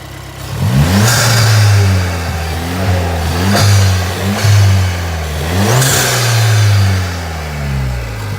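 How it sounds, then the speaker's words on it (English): A Ford Fiesta ST180 fitted with an aftermarket induction hose is revved repeatedly from idle, with loud, close engine rises and falls in several distinct blips and no talk. "I'm just gonna give it a few revs, see what it sounds like."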